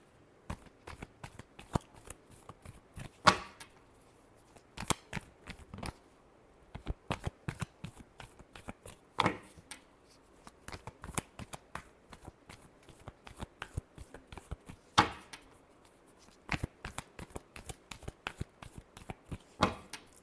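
A deck of tarot cards is shuffled by hand in repeated quick bursts of crisp riffling and flicking, close and quiet, with short pauses between shuffles and no talk.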